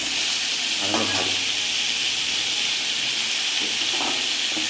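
Pumpkin pieces frying in hot oil in a home kitchen while cooking Bengali-style fish-head curry, a steady close sizzle and hiss throughout, with faint voices murmuring underneath.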